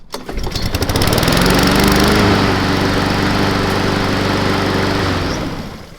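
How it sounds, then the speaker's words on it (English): A small Honda HRN216VKA self-propelled lawn mower engine runs loud and close after a quick start, settling into a steady, buzzing automatic idle that holds evenly before fading slightly. "You can hear that it auto idles very well."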